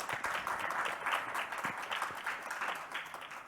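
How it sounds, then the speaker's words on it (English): Moderate applause fills a business summit and expo hall, a steady patter of many hands at mid distance, fairly soft and without speech over it. "A round of applause, please."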